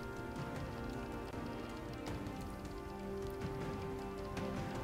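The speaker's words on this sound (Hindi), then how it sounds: "गाजियाबाद और आसपास के इलाकों में रुक रुक कर बारिश हो रही है।" Rain falling steadily around Ghaziabad in the Delhi region, a constant patter of drops on surfaces with a soft underlying hum and no voices.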